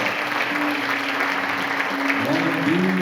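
A church congregation at a Mother's Day service applauds, filling the room with a steady wash of many hands clapping. Sustained tones and voices run underneath.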